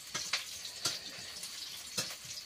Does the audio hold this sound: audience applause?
no